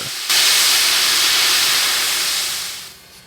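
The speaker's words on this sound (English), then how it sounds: "the 4501 couples up to its consist and stretches the joint to make sure the couplers are properly locked" Southern 4501 steam locomotive coupling up to its train, releasing a loud, steady hiss of steam that begins abruptly and fades slightly near the end, with no talking.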